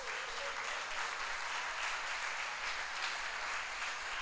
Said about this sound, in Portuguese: Você pode aplaudir Ele por isso?